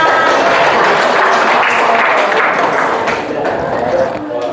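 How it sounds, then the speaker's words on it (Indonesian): Classroom students applauding after a presentation introduction, a loud, close burst of many hands clapping with scattered thumps, slightly uneven and fading near the end. "Tepuk tangan."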